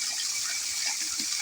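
Dirty, foamy water gushes steadily from a detached pipe near a tank, a continuous broadband rush with no voices.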